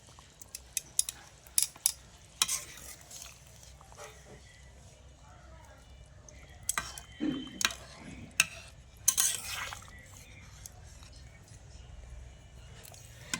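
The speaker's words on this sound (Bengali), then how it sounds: "আমি মশলাটা দিয়ে ভালো করে নেড়ে দিয়েছি" Roasted ground spice of cumin, coriander, dried chilli and black pepper is stirred into a rohu fish curry. A utensil clinks and scrapes faintly against the pot in scattered taps over a low simmer.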